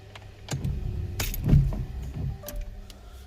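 Keys jangle and a car ignition clicks as the key is turned, giving a short series of close mechanical clicks with a louder clunk midway and no voices.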